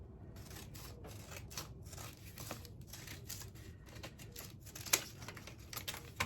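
Scissors snip through thick material while a handmade half-spine journal cover with slow-stitching is being made. The cuts are close, crisp and repeated in an uneven rhythm, with no talk.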